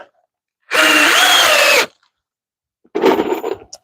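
A power drill drives screws into a wooden tomato trellis in a garden, with one steady whirring burst of about a second followed by a shorter, rougher burst after a pause, loud and close.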